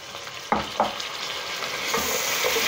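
Onions fry in a pot for spinach and mutton curry, a steady close sizzle that swells slightly, broken by a few scraping knocks of a spoon stirring against the metal.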